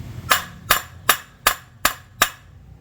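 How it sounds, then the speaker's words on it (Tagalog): Six sharp metallic blows at an even pace ring out close and loud while an impact tool works a disc bolt loose on a Yamaha Sniper 150 motorcycle, with nothing else audible between strikes. "Tapos ibabala natin dito sa impact wrench."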